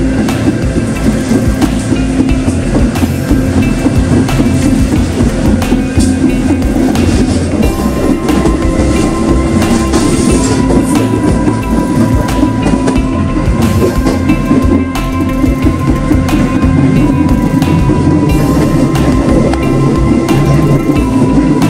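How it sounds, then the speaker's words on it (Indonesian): Passenger train on the Serayu Pagi line passing on rails near Garut, a loud continuous rumble with steady clickety-clack of wheels over rail joints throughout, close by and with no talk. "Serayu Pagi menyusul kereta api 387, komuter lain Garut"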